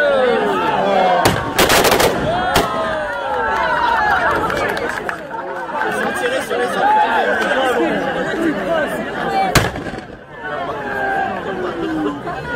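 Musket volleys at a Napoleonic battle reenactment, with sharp cracks and a close burst of rapid shots, heard through crowd chatter and murmuring.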